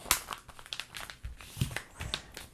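A paper map is folded in half by hand, making close, busy crinkling and crumpling with sharp crackles and soft rustles throughout.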